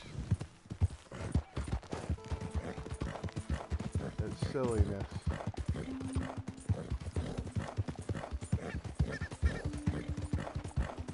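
Horse hooves clip-clop steadily through the Red Dead Redemption 2 video game, with a brief whinny-like call partway through, while a voice speaks over the sound.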